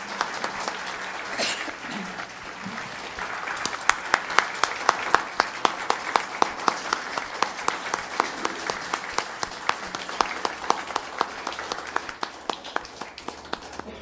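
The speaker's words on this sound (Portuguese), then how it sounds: "Os aplausos demorados falam muito mais do que eu poderia falar sobre a recepção do público à sua manifestação aqui." A lecture audience breaks into long, sustained applause, steady rhythmic clapping from many hands that builds, holds for many seconds, then gradually thins toward the end, heard at moderate distance in a hall.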